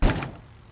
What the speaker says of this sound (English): Slenderman, of all people, pushes Charlie down and opens the front door.